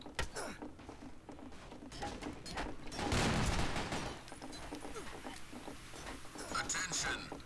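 Rapid gunfire in the multiplayer zombie shooter Zombie Panic Source, sustained distant-sounding volleys of crackling shots with a louder burst in the middle, fairly quiet overall and mixed with game ambience.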